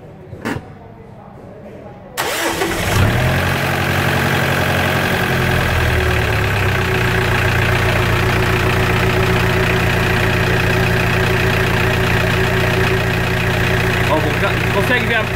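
Car engine cranking and catching, then settling into a loud, steady idle with a rough low rumble, heard up close after a short quiet start, with someone talking briefly over it.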